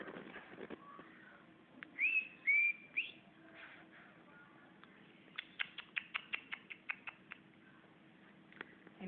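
A tame sooty-headed bulbul sings nearby in a short series of clear whistled phrases, followed by a quick run of sharp chirping notes, with no talking.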